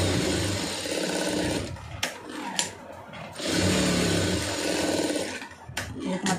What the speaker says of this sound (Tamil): மற்ற ரெண்டு தையல் போட்டுருங்க.